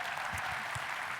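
Conference audience applauding steadily, a dense wash of clapping at moderate distance that holds evenly throughout, with no one speaking over it.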